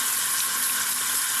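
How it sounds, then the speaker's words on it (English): Tap water runs steadily from a faucet into a sink while makeup brushes are rinsed, a continuous close hiss with no talking. "So as the water is running,"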